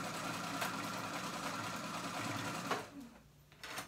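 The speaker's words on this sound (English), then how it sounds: "If your sewing machine doesn't have a basting stitch already a setting on it, you can just set it, grab your stitch and make it the longest." A sewing machine runs a long basting stitch through hoodie fabric, a close, steady mechanical whir with a rapid rhythmic pulse that stops near the end, followed by a brief rustle.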